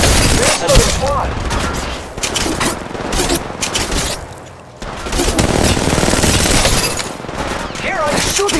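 Gunfire in a video game, heavy rapid automatic bursts and booming shots, loud and nearly continuous, with brief lulls, mixed with voices talking over the action.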